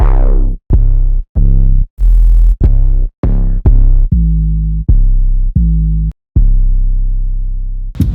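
An 808 bass sample in FL Studio plays a sequence of deep, booming hits, mostly short separated notes with a couple of longer sustained tones, loud and alone.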